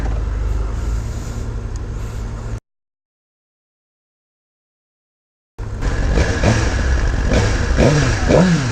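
A 2018 Suzuki GSX-R1000R motorcycle engine runs loud and close during a ride, with a droning, revving roar that cuts to silence midway, then returns with rising and falling revs.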